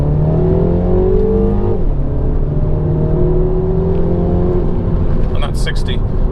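A Mini John Cooper Works engine revs up through third gear, then drops in pitch as it shifts into second and climbs again, loud and close from inside the cabin, with a brief voice near the end.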